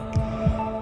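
Two deep, muffled heartbeat thumps sound as an effect in a Tamil TV drama serial, evenly spaced over a low steady hum.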